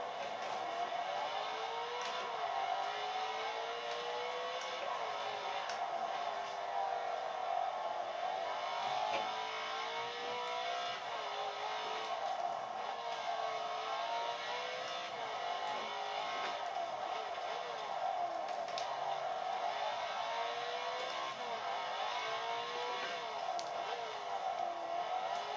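A race car engine in Forza 5 holds a steady, droning whine through a whole lap, with pitch rising and falling gently through shifts and corners, constant and unbroken throughout.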